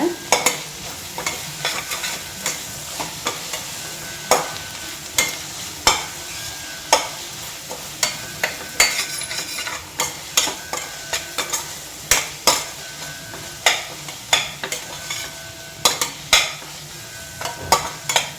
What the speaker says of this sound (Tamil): அதையும் போட்டு இந்த எண்ணெயில் நல்லா வதக்கிக்கோங்க.